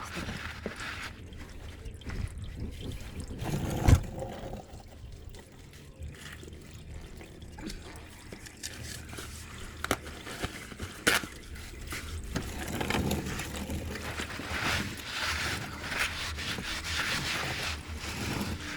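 Engine oil draining from the sump of a Holden VF Commodore during a home oil change, a steady liquid trickle and splash into a pan, moderately close, with a brief knock near the start and no talking.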